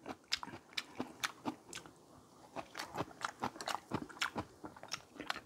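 Crisp cucumber kimchi (oi-sobagi) is bitten and chewed close to the mic, giving a quick, steady run of sharp wet crunches with no talking.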